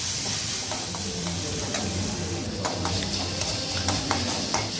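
Prawns stir-fried in a pan, a continuous close sizzle with rhythmic scraping and tapping of a spatula against the metal as the pieces are turned over and over.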